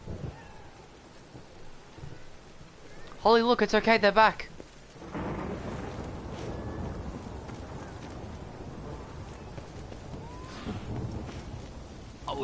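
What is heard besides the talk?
thunderstorm in the video game The Witcher 3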